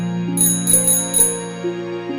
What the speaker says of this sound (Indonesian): Terdengar bel sepeda berdering di depan.